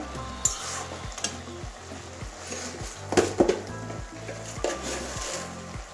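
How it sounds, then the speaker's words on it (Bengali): Spatula stirring tomato into cabbage curry in a pan, with a soft sizzle under steady scraping strokes and a few louder clanks of metal on the pan; no talking. "টমেটোটা সব কিছুর সঙ্গে মিশিয়ে দেবো।"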